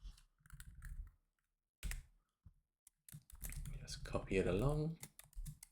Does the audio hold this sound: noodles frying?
no